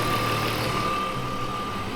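BMW E36 M3 engine idling steadily after a cooling system overhaul, a constant low hum with a thin high whine running through it and no voices.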